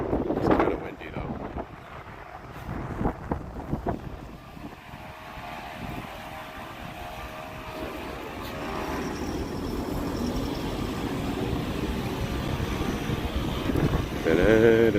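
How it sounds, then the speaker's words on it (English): Wind blowing outdoors near Hiroshima Castle, a continuous rumbling buffet across the microphone with gusts rising and falling and a voice speaking briefly at the start. "It's kind of windy though."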